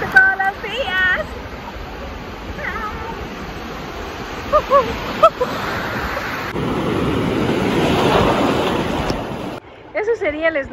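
Sea water heard from a submerged phone off the Ecuadorian coast near Puerto López: a continuous muffled underwater rush that swells in the middle, with a few faint tonal chirps and brief voice-like bursts near the start and end.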